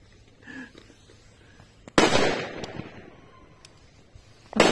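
A sharp firework from a Magnum Alba 20-shot emitter launches with a loud crack and fizzing hiss that trails off, then another loud pop hits at the end; faint earlier sounds before.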